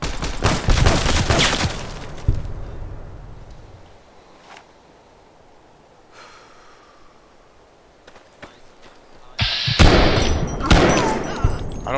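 Heavy bursts of gunfire in a Fallout game, loud rapid volleys at the start, a quieter stretch with a few isolated shots, then another intense burst near the end.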